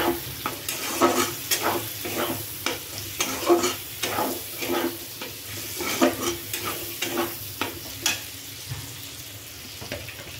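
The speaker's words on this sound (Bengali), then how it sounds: "পেঁয়াজটাকে একটু লাল লাল করে ভেজে নেব। এর মধ্যে দেবো লঙ্কা কুচি।" Onions and chopped chillies fry in a pan for chicken kosa, a steady sizzle broken by rhythmic scraping stirs every second or so, close and moderately loud, with no voices.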